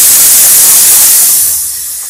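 Curry leaves dropped into hot oil in a pan burst into a loud, dense, continuous sizzle that starts strong and eases slightly toward the end, with no voices.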